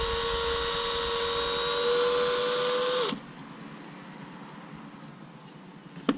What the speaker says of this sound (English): So yeah, we can just drill these out here.